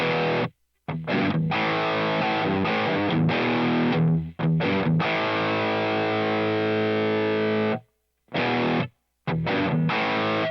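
Loud distorted electric guitar chords through a Boss Katana MK2 amp, ringing with a wash of reverb, broken by a few brief silent gaps between phrases.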